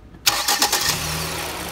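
Ford Escape 1.5-litre turbo engine running with the engine cover off, a broadband whoosh and whine kicking in abruptly after a brief quiet start, then settling into a steady close, loud running drone with a low hum.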